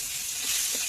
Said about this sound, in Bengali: এই দেখো আর একটা অন্য জিনিস রান্না হচ্ছে, ঘি করলা